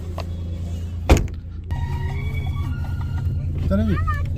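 A vehicle pulls up at a roadside near Tandi village in Lahaul Spiti, its engine idling with a rumbling hum, a sharp thump from a door, and voices talking over it.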